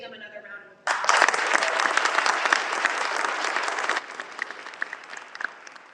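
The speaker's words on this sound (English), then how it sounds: "Can we give them another round of applause?" Rally crowd applauding UPMC Magee nurses and advanced practice professionals, a sudden loud wave of clapping breaking in after a speaking voice, holding strong for several seconds and then thinning out.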